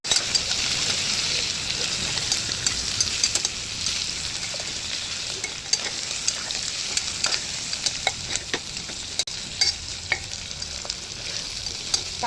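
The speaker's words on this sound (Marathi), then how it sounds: "कांदा छानपैकी परतून घ्यायचा." Onion sautés in a pan for egg biryani, with a continuous close sizzle and scattered scraping and stirring clicks throughout.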